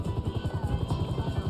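A police helicopter in the video game GTA 5 makes a rapid, rhythmic rotor thump, fairly loud and steady over a short stretch, with no voices.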